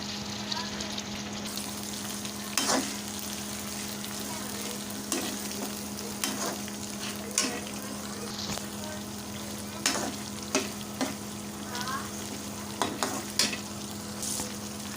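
Onions and tomatoes for achari bhindi fry and sizzle steadily in a pan, with intermittent stirring scrapes and clatters breaking through the continuous hiss.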